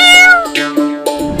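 A cartoon cat meows with bright, high, drawn-out calls, loud and close, several short mews following one long cry, with no talk over it.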